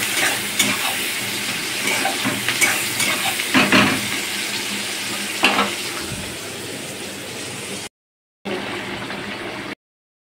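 Potato pieces frying in a pan for a spicy mutton curry, a steady close sizzle with scraping stirs and clinks, cutting out briefly near the end before resuming.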